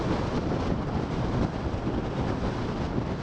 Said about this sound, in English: Oh, a bit windy up here.